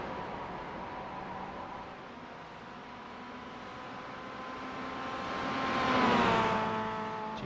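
Race cars lap the Summit Point track, their engines a faint, distant drone that swells as one car nears and passes, then fades again.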